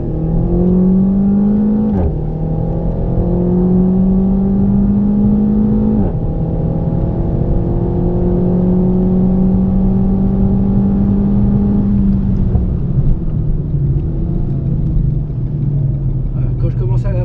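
A car with four-wheel steering corners hard on the Val de Vienne circuit, its engine droning loud and steady from inside the cabin with pitch shifts at each gear change, while voices talk over it.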